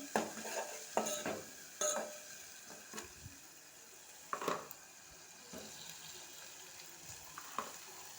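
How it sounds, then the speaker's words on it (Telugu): Turmeric being stirred into an eggplant and tomato curry in a pan, heard as a few scattered scrapes and clinks of a spoon against the pan over a faint sizzle, fairly quiet with pauses between strokes. "అలాగే పసుపు ఇలా వేసుకొని టోటల్గా కలిపేసుకోవాలి."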